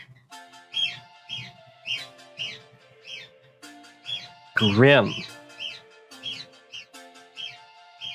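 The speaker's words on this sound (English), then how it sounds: "They just get to be loud. You're distracted by the birds." Pet birds chirp and whistle repeatedly at close range, with one burst of loud, harsh screaming partway through, while a person talks over them.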